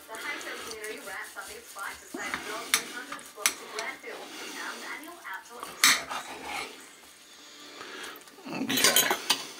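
A knife slicing through smoked silverside beef eye of round on a board, with scattered knocks and scrapes of the blade and utensils under steady talking, and a dog barking faintly.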